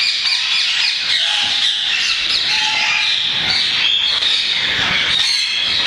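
Pet parrots squawking at a bird farm in Multan, a loud dense chorus of harsh overlapping squawks and shrill chirps close by, running continuously without pause.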